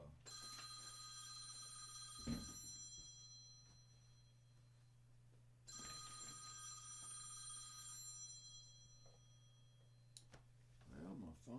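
A telephone rings in a Nashville recording studio, two long bursts of bright electronic trilling several seconds apart over a steady low hum, with faint background noises between.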